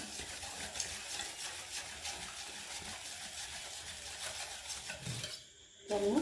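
Oil and sugar whisked together in a bowl for a vegan chocolate cake, with rapid rhythmic whisk strokes ticking against the sides close by, then a brief pause and a clink near the end.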